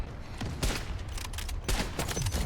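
R93 bolt-action sniper rifle fired in the video game Delta Force, a few loud, sharp blasts with noisy tails spaced under a second apart over continuous battle din, no voices.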